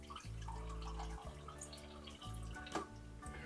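Water for a half-cup serving of oats pours into a pot in short bursts, with a steady low trickle broken by brief splashy moments, fairly quiet and close.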